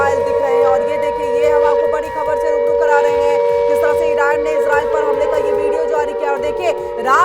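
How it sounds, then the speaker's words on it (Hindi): Air raid sirens wailing across Israel during an Iranian attack, a sustained steady tone with faint rising and falling pitch that stays loud and continuous throughout. "रात भर इजराइल के अंदर में जो है सायरन बजते रहे।"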